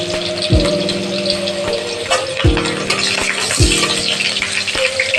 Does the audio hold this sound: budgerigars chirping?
no